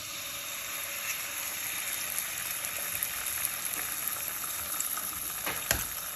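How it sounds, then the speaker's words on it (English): Eggs fry in butter in a diner-style pan with a steady, faint hiss and crackle, plus scattered small pops and one sharper snap near the end. "we're gonna use our butter here to fry our eggs"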